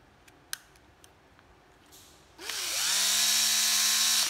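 A used Japanese cordless drill gives a few light clicks and handling taps, then spins up into a steady, loud whine that runs on close to the end.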